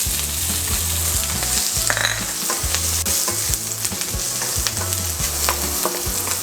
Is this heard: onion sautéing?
yes